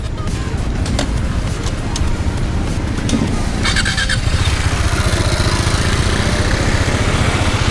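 A water-cooled Husqvarna Svartpilen 401 motorcycle idles in neutral close by, a loud, steady engine thrum running the whole time, with a few brief clicks early on.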